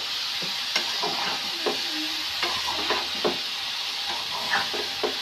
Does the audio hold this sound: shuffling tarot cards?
no